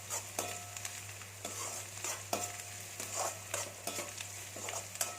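Curry leaves and garlic sauté in a pan for a potato stir-fry, giving a steady, close sizzle broken by the scrape and clink of a spoon stirring at intervals.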